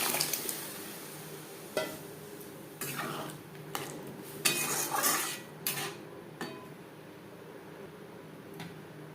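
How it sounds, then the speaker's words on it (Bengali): Tomatoes frying with onion in a pan are stirred with a metal utensil, giving a series of scraping clinks against the pan over a low sizzle. There is no talking. "কাঁচা গন্ধ যাওয়া পর্যন্ত টমেটো নাড়াচাড়া করব।"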